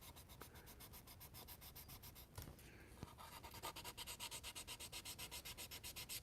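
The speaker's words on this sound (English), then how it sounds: "these sanding pads are dope" 240-grit sanding pads rub back and forth over a Corvair car surface in a quick, steady rhythm of scratchy strokes, close and fairly quiet.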